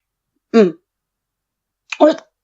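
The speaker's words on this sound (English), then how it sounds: "Why am I coughing on a fucking pineapple?" Two short, harsh coughs while chewing pineapple, about a second and a half apart, close and clear against silence.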